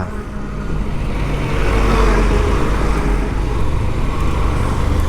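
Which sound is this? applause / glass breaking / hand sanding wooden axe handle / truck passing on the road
truck passing on the road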